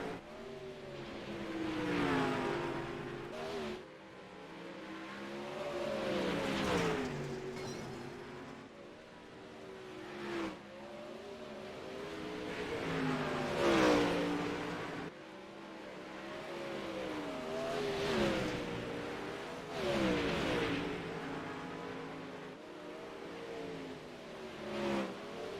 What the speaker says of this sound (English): enjoy some of the sights and sounds of Pevely with these amazing 360 sprint cars